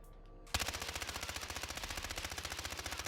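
Rapid submachine gun fire in Warzone, a steady unbroken burst of close, loud shots at an even fast rhythm after a brief quiet start.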